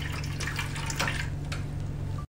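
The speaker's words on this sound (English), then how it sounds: "then the water will come out." Water runs from the outlet hole of a 3-in-1 6D lipolaser cold laser slimming machine, a steady close flowing and trickling wash with a low hum beneath, cutting off abruptly near the end.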